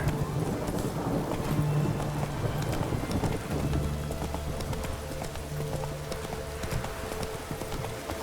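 Roach, the horse in The Witcher 3, gallops with steady, rhythmic hoof clip-clops that continue throughout at moderate volume over soft game ambience.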